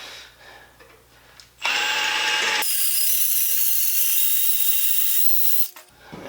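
Power drill boring out a bolt on a 1950 Chevy coupe, a loud, steady high-pitched whine of the bit biting into metal for several seconds after a quieter start, then winding down.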